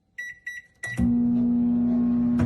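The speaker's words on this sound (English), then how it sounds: "Place in the microwave and microwave for 75 seconds." A kitchen microwave oven gives three short electronic beeps, then a loud steady hum starts and runs on continuously, close by and with no talking.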